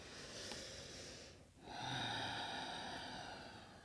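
A long, soft, throaty ujjayi yoga exhale with a snoring-like hiss rises after a short pause during a flow class, close and quiet, with no talking.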